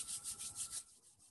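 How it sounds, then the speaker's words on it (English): Hands rubbing together during a t'ai chi and chi kung exercise, a quick rhythmic series of soft, close swishing strokes that stops after under a second. "Rub your hands together."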